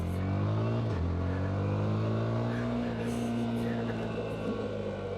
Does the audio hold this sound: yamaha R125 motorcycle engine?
yes